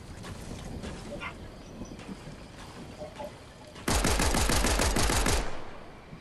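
Video game gunfire: a loud, steady automatic burst cuts in partway through and runs for about a second and a half over quieter background noise and faint voices, then drops away.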